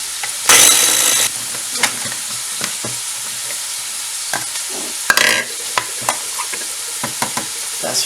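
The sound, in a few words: frying and stirring onions in a pan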